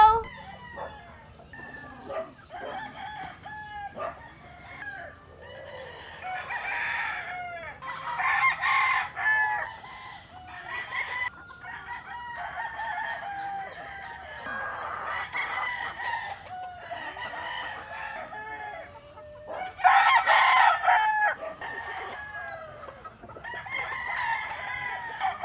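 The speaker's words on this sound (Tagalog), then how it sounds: "ipapasyal ko po kayo sa kanilang manukan." Several roosters crow one after another at a gamefowl farm in Angat, Bulacan, with scattered hen clucks between the calls, some near and some farther off; a voice talks faintly in the background.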